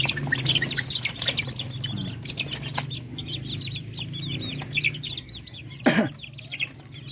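Young Darag chicken chicks cheep and cluck in a busy, overlapping chorus at moderate loudness, with one sharper, louder call near the end.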